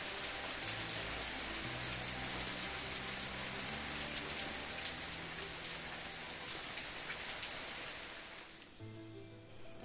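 Autumn rain falling steadily, a dense patter of drops on surfaces that continues evenly before dropping off near the end, with no talking.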